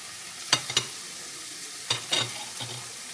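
Minced beef patties cook in a pan, heard as a low, faint sizzle broken by a few short, louder scrapes and clatters at irregular intervals, with no voices.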